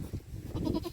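A goat bleats several times in quick wavering calls, close by, with rustling and farmyard noise underneath.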